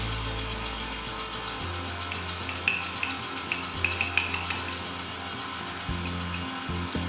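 An electric mixer at low speed beats cupcake batter in a bowl, with a steady motor hum and repeated clinks as the beaters strike the side.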